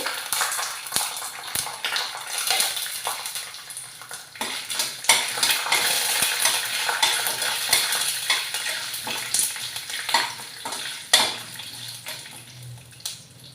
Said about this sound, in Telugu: ఇప్పుడు ముందుగా ఈ పల్లీలు మనం ఇందులో వేసి వేయించుకోవాలి